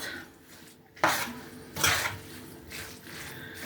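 A salad with mayonnaise and raw minced meat being mixed in a bowl, a few soft clinks and wet scraping strokes of a utensil, close and fairly quiet.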